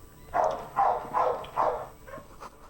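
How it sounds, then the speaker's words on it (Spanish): A dog barks outside, about four evenly spaced barks followed by a softer one, fairly clear at moderate distance in an otherwise quiet room. "¿Ustedes escuchan el perro?"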